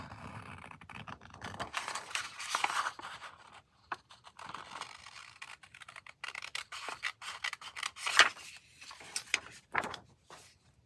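Scissors snipping paper at a crafting table, with intermittent scraping and cutting strokes, quiet and close, in irregular bursts with short pauses between.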